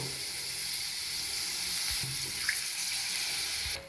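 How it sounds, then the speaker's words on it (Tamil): Water runs steadily into a pot of tilapia fish curry, a soft continuous pour with light sizzling beneath, fairly quiet and without speech, ending abruptly. "இப்போ தேவையான அளவு நம்ம வாட்டரை ஆட் பண்ணிக்கிறோம்"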